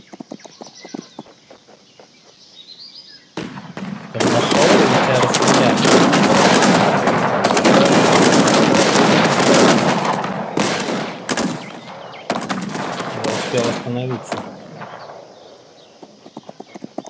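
Gunfire in the strategy video game Cossacks 3 comes as a loud, dense burst of rattling musket volleys mixed with clattering horse hooves and whinnies, then tapers into scattered shots.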